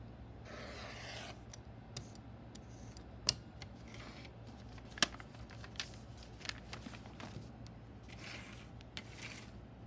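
Scissors cut fabric for a quilt block, soft repeated snips and rustling of cloth at an uneven pace, close and quiet without speech.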